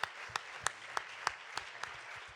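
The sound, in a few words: congregation applauding in church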